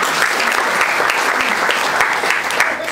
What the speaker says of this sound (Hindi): इनका भी जरा जोरदार तालियों से स्वागत करें।